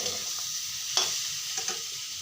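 Vegetables fry in a pan with a steady sizzle, while a utensil scrapes and stirs in a few brief strokes, close up and moderately quiet.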